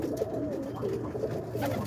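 Kit roller pigeons coo inside a loft, soft overlapping throaty calls rising and falling close by over a steady low background, with no talking.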